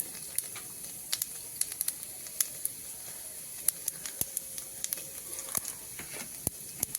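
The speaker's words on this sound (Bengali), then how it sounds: "ডালে ফোড়ন দেওয়া হচ্ছে এই যে জিরে দিয়ে দিয়ে দিলাম গোটা জিরে" Whole cumin seeds crackle and pop in hot oil while dal is being tempered, a faint steady sizzle broken by many sharp, scattered snaps.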